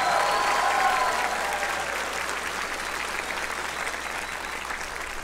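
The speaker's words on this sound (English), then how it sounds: "Give all the fursuiters a big round of applause." Sustained applause from a large convention audience cheering fursuiters at Anthrocon, a dense continuous wash of clapping that starts strong and eases slightly over several seconds, with no one speaking.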